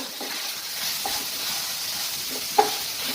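Masala gets stirred into a four-bean curry in a pan over a soft, steady sizzle, with a few gentle scrapes and one sharp metallic tap near the end.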